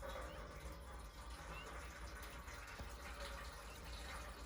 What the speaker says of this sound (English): We'll just put a little water in there.